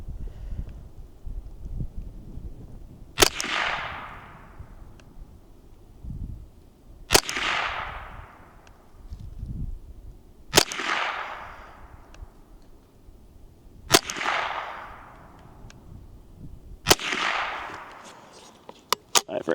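Five sharp gunshots from a Mossberg 702 Plinkster rifle firing Aguila hollow point Super Extra rounds, evenly spaced a few seconds apart, each a loud crack with a ringing decay and quiet pauses between.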